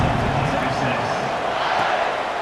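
Stadium crowd noise from EA Sports College Football 26 as a kickoff approaches after a touchdown return, a steady dense roar of cheering fans filling the whole stretch without breaks.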